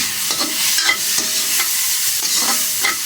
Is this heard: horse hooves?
no